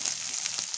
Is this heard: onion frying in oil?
yes